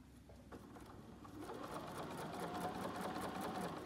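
Sewing machine stitching cotton fat-quarter fabric for a surgical cap, a steady close whirring hum that builds slightly louder partway through and runs continuously without talk.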